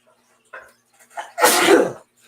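One sudden, loud human sneeze, near and alone, preceded by a couple of short breathy sounds.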